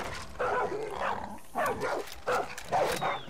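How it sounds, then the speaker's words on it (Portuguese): A dog barks several times in short bursts, fairly close, with brief pauses between the barks, in the video game Far Cry 5. "Será que dá pra gente passar por aqui sem matar o cachorro?"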